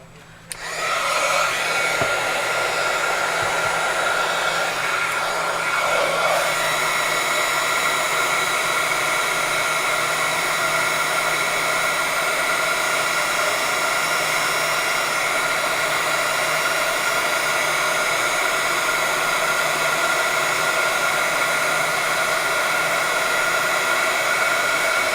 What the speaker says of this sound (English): I'm going to go ahead and heat set my 2 images here